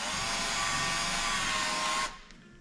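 A power drill spins a countersink bit to lightly chamfer the edge of a drilled hole in snowmobile suspension mounting, a steady close whine with a thin tonal note that runs for two seconds and then cuts off.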